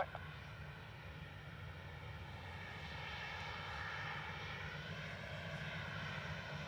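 Ryanair passenger jet landing at Dublin Airport, a steady, fairly faint engine roar heard from a distance that slowly builds over several seconds, with no speech.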